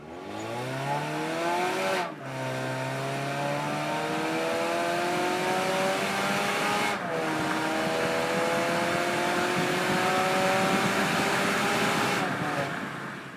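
A 2022 Mazda 6's 2.5-liter four-cylinder engine revs up repeatedly, rising in pitch with brief drops between gear shifts, loud and close throughout.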